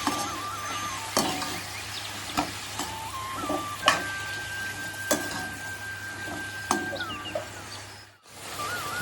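Pork being stirred in a pan with turmeric, red chili and garam masala for an Assamese pork dish, giving a steady sizzle with repeated scraping strokes of the spoon, close and fairly loud, ending in a brief silence.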